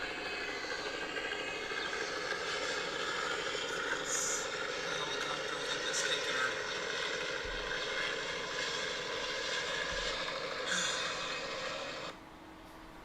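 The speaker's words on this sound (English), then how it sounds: "So that was a helicopter." A steady, loud helicopter rotor and engine roar from a descending helicopter fills the whole stretch, holding level before dropping off abruptly near the end.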